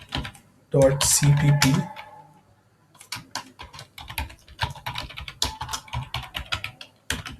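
Fast clattering keystrokes on a computer keyboard while C++ code is typed in VS Code on Ubuntu, following a brief spoken remark and continuing steadily.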